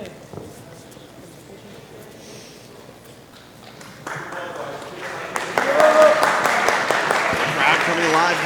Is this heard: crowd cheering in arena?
yes